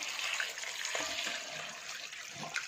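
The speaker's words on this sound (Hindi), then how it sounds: "और इसमें डाल देंगे पानी" Water is poured steadily into a cooking pot of beef paya with black cardamom, black pepper, cumin, cinnamon and cloves, a soft continuous splashing rush at low volume.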